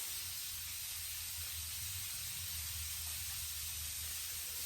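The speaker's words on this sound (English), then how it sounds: "you can hear my cast iron going in the background" A steady, hissing sizzle of steak cooking in a hot cast-iron pan, constant and fairly faint, with no talking.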